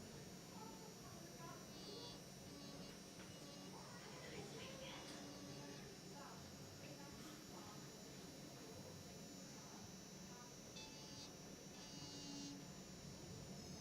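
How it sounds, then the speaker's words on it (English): A small rotary tool spins a soft abrasive wheel against metal during jewelry setting work. It gives a steady, close, high-pitched motor whine with continuous buzzy grinding that runs unbroken throughout, while faint voices may sit underneath. "I'm just going to go in with this little soft wheel here, where I can just take away less than I would if I was using a ball burr."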